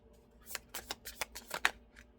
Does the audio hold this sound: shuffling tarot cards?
yes